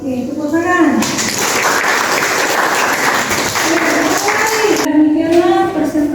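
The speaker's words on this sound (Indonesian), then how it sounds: "tepuk tangan" Loud, dense applause from a classroom audience after a student presentation, running steadily for about four seconds, with children's voices speaking before and after it.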